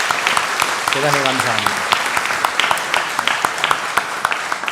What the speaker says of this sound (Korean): 여러분 박수로 축하해 주시기 바랍니다